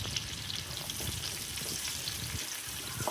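Five slit green chillies crackle and sizzle in hot oil with garlic and ginger, a steady close frying hiss with scattered pops throughout, no voices.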